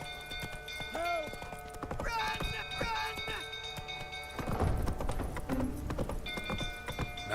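Horse Roach galloping in The Witcher 3, a steady run of hoof thuds under game voices and shouting, with a fuller burst of pounding steps later on.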